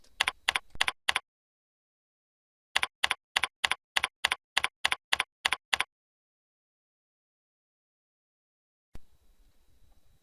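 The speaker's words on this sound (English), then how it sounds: "at this point we'll type our username and our company" Rapid keystrokes on a computer keyboard as a username and company are entered during software installation: a short burst of four clicks, a pause, then a steady run of about twelve crisp taps, close and clear, followed by faint room noise.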